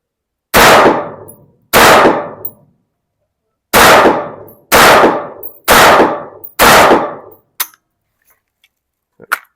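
Six loud rifle shots ring out at an outdoor shooting range, each a sharp crack with a decaying echoing tail, spaced roughly a second apart with one longer gap, followed by a couple of faint clicks and knocks.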